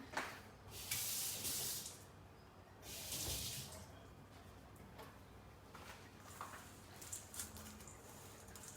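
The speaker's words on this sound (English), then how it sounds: "I'm going to go wet my hands one more time" Water running from a sink faucet as hands are wetted while making protein peanut butter poppers, coming in soft hissing bursts that swell and fade, with faint splashes and drips in a quiet kitchen.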